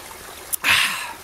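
Water rushes out of a pressed filter water bag in a short burst, a bright hissing pour following a brief click, heard up close and alone.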